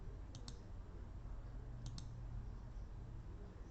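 Two quick double clicks of a computer mouse while drawing control points in FreeCAD CAD software, close and crisp over a steady low room hum with no talk.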